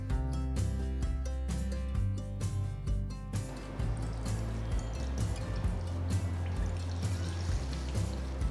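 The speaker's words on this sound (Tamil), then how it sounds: "ஒரு மஸ்லின் கிளாத் யூஸ் பண்ணி துருவின சொரக்காயை லேசா பிழிஞ்சு எடுத்துருங்க" Water drips and trickles steadily as wet grated bottle gourd is squeezed through muslin cloth, close and clear with no talking.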